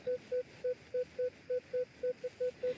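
A Minelab Equinox metal detector sounds its signal tone during an outdoor treasure hunt, a clean mid-pitched beep repeated about eleven times in a steady, even rhythm over faint background hiss, with no talking.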